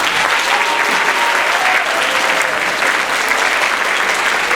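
Steady, dense applause from an elementary school concert audience honoring percussionists and singers, sustained and loud throughout with no pauses.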